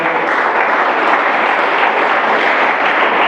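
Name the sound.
congregation applause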